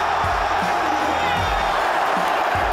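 Union Berlin football fans fill a stadium with a loud, unbroken wall of cheering and chanting, dense and continuous, with occasional low thumps beneath the roar.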